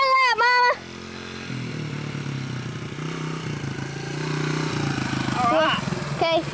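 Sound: small motorcycle being ridden

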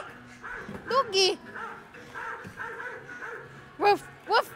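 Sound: dog barking

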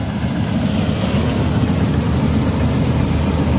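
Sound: engine of machine working in muddy paddy field

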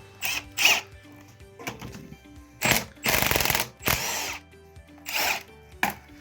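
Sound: ratchet unscrewing turbocharger bolts on an engine

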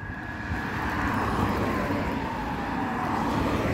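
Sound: ambulance driving by on a city street

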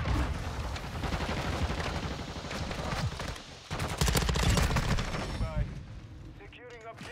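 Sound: Bas-P SMG gunfire in Modern Warfare 2 video game

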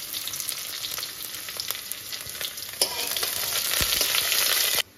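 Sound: onions and garlic frying in a pan

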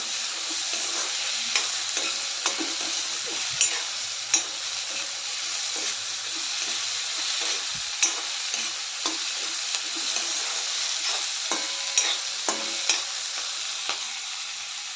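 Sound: sautéing chopped snake gourd with onion in a pan

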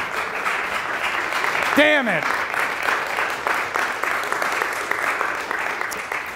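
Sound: audience clapping

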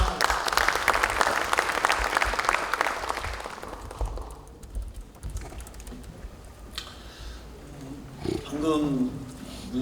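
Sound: applause welcoming a speaker

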